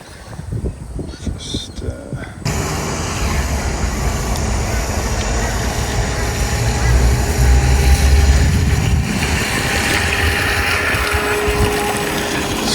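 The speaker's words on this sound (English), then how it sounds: "It's a nice, quiet, running little boat actually" A small motorboat engine drones steadily and fairly loud at about three-quarter throttle, a continuous mechanical hum with water and wind noise, preceded by a brief rattling start.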